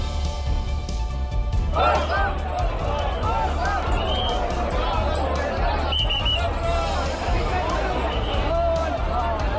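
A dense crowd of devotees throngs Shiva temples such as Gauri Shankar and those in Haridwar on Sawan's last Monday. A continuous, close babble of many voices and shuffling movement fills the whole stretch.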